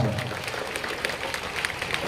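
An audience at a convocation ceremony claps in a steady, dense patter of many hands, moderately loud and continuous, with a little crowd noise underneath.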